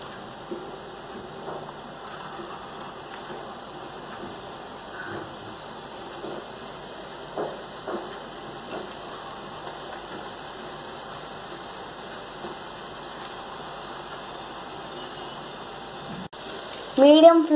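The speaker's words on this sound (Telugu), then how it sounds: "మీడియం ఫ్లేమ్ పైన స్లోగా వేయించుకోండి." Jalebi batter piped into hot oil over a medium flame, giving a soft, steady crackling sizzle with a few faint pops, fairly quiet throughout, with a louder clatter near the end.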